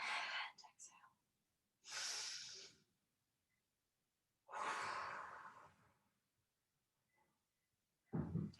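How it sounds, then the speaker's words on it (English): Deep breaths in and out during a barre workout cool-down, a few slow airy inhales and exhales separated by quiet pauses, close and soft with a whispery hiss. "Breathe in and exhale."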